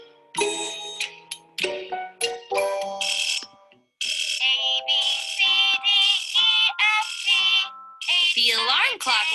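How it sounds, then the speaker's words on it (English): An alarm clock rings out a melody of the alphabet song in a children's story, a bright chiming tune of quick tonal notes that plays loud and continuous with a short gap partway through. "The alarm clock rang to the alphabet song."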